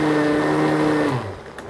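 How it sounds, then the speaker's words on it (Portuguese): A countertop blender whirs loudly, mixing orange cake batter with olive oil; the steady motor drone holds close and constant, then winds down near the end. "Aí tem que bater no liquidificador."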